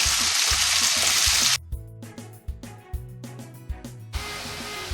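Sliced onions and curry leaves frying in hot oil for Kerala-style beef mappas give a loud, steady sizzle at first, then drop to quieter bubbling crackles with occasional soft pops.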